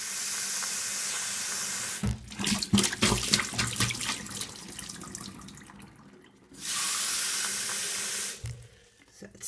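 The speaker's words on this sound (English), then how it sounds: "So it's very important to let the water run clear the first time" Tap water runs and splashes over a batch of alfalfa sprouting seeds being rinsed, a steady hissing stream broken by a stretch of clattering, splashy rinsing before the flow resumes, close and alone without talk.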